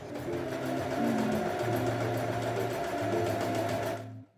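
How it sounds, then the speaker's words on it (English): A sewing machine runs a second zigzag stitch along a sweater-knit cardigan dress with a lettuce hem. Its steady, close motor hum and rapid needle rattle run continuously for about four seconds, then stop abruptly. "I decided I wanted to give it a second zigzag stitch"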